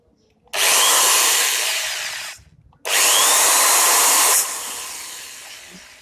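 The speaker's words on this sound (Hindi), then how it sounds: "तो आप देख सकते हैं बहुत ही बढ़िया घूम रहा है ये।" A Buildskill 10 mm electric drill machine, 300 W and rated at 2600 rpm, run free twice in short bursts: each time a loud, high-pitched whine spins up fast, holds steady, then winds down as the switch is released.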